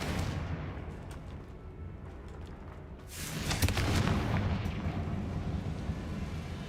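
Confringo blasting spells explode in the video game Hogwarts Legacy, a steady rumbling din giving way to a louder, booming burst that swells and lingers for several seconds.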